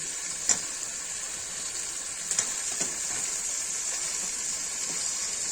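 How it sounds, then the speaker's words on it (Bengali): Chicken pieces hitting hot oil in a pan for a red chicken curry, a steady bright sizzle running throughout with a few sharp spits and crackles, no talking. "আমি এবার মাংসগুলো ছেড়ে দিচ্ছি।"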